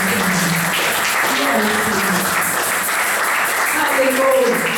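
A church congregation applauding during a French-language worship service, a loud, steady wash of clapping with a voice speaking over it.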